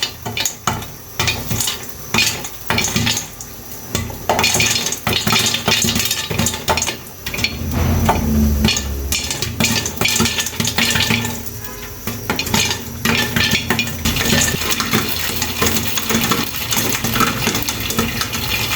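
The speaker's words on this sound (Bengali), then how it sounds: "আমার পপকর্নগুলো একটা একটা করে ফুটছে।" Popcorn kernels popping one at a time inside a lidded pot on the stove, giving a steady scatter of sharp clicks and taps with a metallic rattle against the lid, continuing through the whole stretch without talk.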